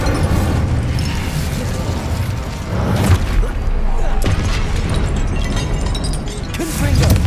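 An Incendio fire spell is cast in Hogwarts Legacy amid loud, continuous combat noise, with rumbling bursts and whooshing flares layered over one another.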